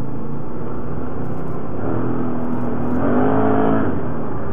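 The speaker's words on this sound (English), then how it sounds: "I think my exhaust sounds louder." An ATV engine rumbles close by on a trail, its exhaust note rising as it revs up and then easing slightly.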